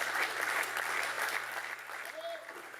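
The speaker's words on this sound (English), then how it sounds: "Can I ask for another round of applause, please, for our Assistant Regional Public Image Chair?" A seminar audience applauds the Assistant Regional Public Image Chair, a moderate, steady wash of clapping with a low hum beneath and a faint voice near the end.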